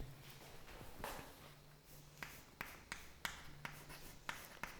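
Pen writing a math hint on paper, with faint scratching strokes and soft taps in an irregular rhythm, quiet and close.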